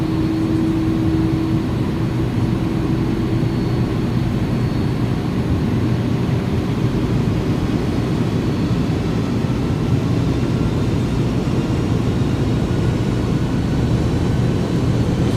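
Airliner engines in a flight simulator spool up toward takeoff power as a steady, loud, broadband roar with a rising whine early on, continuous and unbroken throughout.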